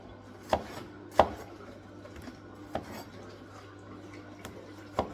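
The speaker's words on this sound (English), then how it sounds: "Now you can hear the machine wants more juice" A home juicing machine runs with a steady low motor hum for the whole stretch, broken by a few sharp knocks and clatters spaced irregularly through it, with no one speaking.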